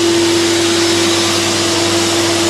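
A vacuum running steadily during vacuum forming of a PETG plastic RC car body shell for an Arrma Talion: a loud, constant whining roar with a steady hum, unbroken throughout.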